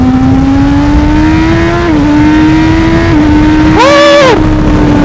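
Honda CB1000 Hornet SP motorcycle engine revving loud and close, pitch climbing steadily through gears with brief dips at quickshifts, then a sharp throttle blip and settle; wind rush throughout.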